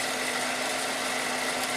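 A Toyota Tarago van engine idles steadily up close, a constant mechanical hum with a faint whine and no other sounds.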